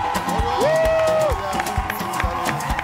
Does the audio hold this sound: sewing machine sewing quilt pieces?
no